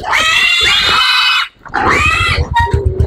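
Pigs on a Philippine farm squeal loudly in long, shrill bursts close to the listener, broken by a brief pause before more squealing and grunting resumes.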